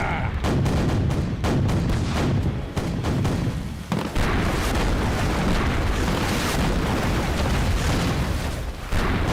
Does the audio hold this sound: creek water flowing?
no